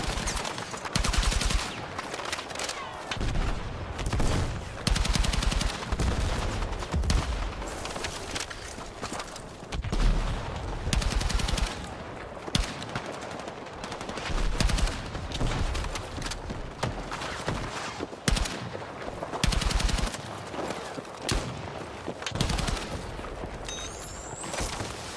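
Bursts of hip-fired gunfire in a shooter video game, rapid volleys of loud shots recurring in clusters across the stretch, dense and aggressive, with no speech over them.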